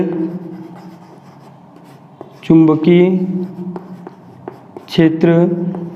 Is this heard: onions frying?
no